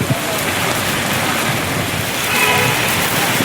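Heavy rain falling in a steady, dense hiss that swells slightly toward the end, continuous and close with no voices.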